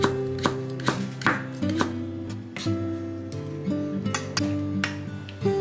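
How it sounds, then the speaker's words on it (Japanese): A knife cutting carrot into thin julienne strips on a cutting board while making kinpira, with steady rapid chopping taps heard close and clear over light background music. "人参は細切りにします。"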